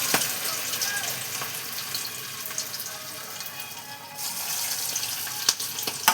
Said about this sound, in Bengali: দেখো তেল গরম হয়ে গেছে, এবার আমি এতে একটা একটা করে ছেড়ে দেবো। এটা কিন্তু ডিপ ফ্রাই হবে।